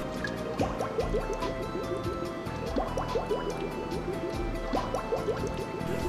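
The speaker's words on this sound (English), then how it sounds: "When mix stops bubbling down into the freezing cylinder" Soft-serve mix bubbles and gurgles down into the freezing cylinder of a C708 machine, a quiet run of repeated drips and liquid plops over a low steady mechanical hum.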